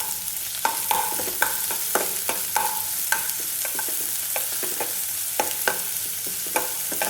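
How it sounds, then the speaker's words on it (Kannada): Chopped onion fries in oil in a pan, a steady close sizzle broken by repeated sharp scrapes and clacks of a spatula stirring at an uneven rhythm, with no voices. "ಒಂದು ಬಾಣಲೆಯಲ್ಲಿ ಎಣ್ಣೆ ಹಾಕ್ಕೊಂಡು ಆಮೇಲೆ ಕಟ್ ಮಾಡ್ಕೊಂಡಿರೋ ಈರುಳ್ಳಿ ಚೆನ್ನಾಗಿ ಹುರ್ಕೋಬೇಕು ಎಣ್ಣೆಯಲ್ಲಿ."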